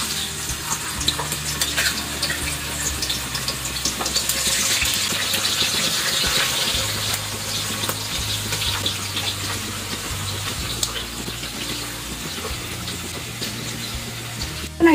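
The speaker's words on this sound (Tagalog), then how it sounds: "Now it starts boiling, guys." Pork belly boiling in a pot of water with garlic, a continuous bubbling, hissing simmer with occasional stirring clinks, close and steady throughout.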